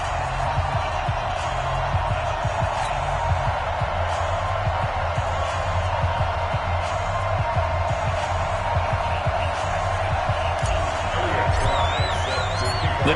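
A dense, steady crowd roar fills an NFL stadium in Madden 20, with cheers and whoops rising throughout.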